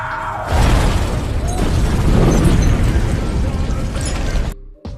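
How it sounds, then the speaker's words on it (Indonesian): A car explodes in a loud, sustained roaring blast that fills the air with broadband rumble and crackle for several seconds, then cuts off abruptly. "Lalu mobil itu pun meledak."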